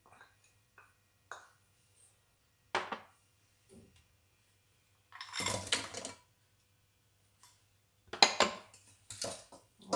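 Broccoli is stirred in a soup pot, with sparse metallic clinks and scrapes of a utensil against the pot separated by short silences, then louder clustered scraping near the end.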